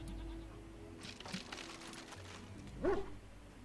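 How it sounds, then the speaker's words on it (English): A dog named Ringo in the Dragon Age Origins video game gives a single short, bright bark or yelp near the end, over a steady low game-ambience hum. "He bounces around you barking excitedly."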